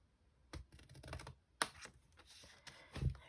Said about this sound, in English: So I'm cutting down to that score line just there, and I'm double cutting obviously because it's folded over